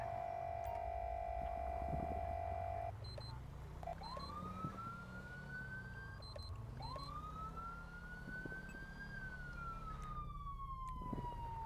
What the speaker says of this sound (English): all these are different sirens now.